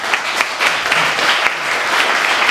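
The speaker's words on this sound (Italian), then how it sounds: "io gli farei un altro applauso" Audience applause at a comic book presentation, a steady dense patter of many hands clapping close by, with no speech over it.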